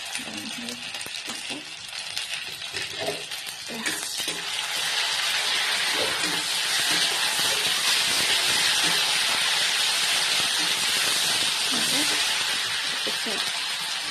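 Onion frying in beaten egg in a pan, a broad steady sizzle that swells louder after a few seconds and holds, with faint scattered knocks and a voice speaking over it early on.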